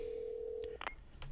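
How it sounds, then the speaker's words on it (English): A phone in The Walking Dead: A New Frontier video game sounds a steady electronic tone, then a short beep, clear and fairly quiet over faint background noise. "All right, phone's ringing."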